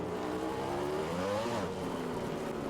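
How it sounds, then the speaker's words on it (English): A motorcycle in the RiMS Racing game winds up as its wheels spin, a steady engine drone climbing in pitch and then settling, loud and close with no voices. "You can already hear the wheels are spinning up as well"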